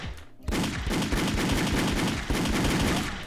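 Rapid automatic weapon fire in the online shooter Wolfteam, a loud close burst of repeated shots that starts abruptly and continues with a brief pause, no speech over it.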